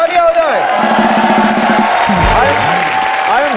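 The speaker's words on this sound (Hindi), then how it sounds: "धर्म जी के लिए जोरदार तालियां हो जाए।" Studio audience on a live comedy show applauds and cheers loudly, with whoops and shouts riding over the clapping, while voices call out and talk over it throughout.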